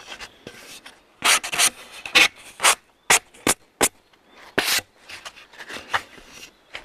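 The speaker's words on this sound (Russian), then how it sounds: "следующим шагом обрабатываем при помощи шкурки заусенцы, которые появились в результате пиления" Sandpaper rubs over sawn wood to smooth away burrs, heard as a series of short, close rasping strokes in irregular bursts separated by brief quiet gaps.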